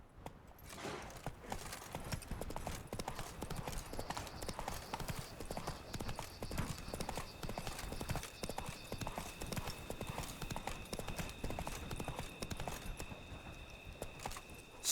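Roach the horse runs, hooves pounding in a quick, continuous clip-clop that holds close and loud throughout.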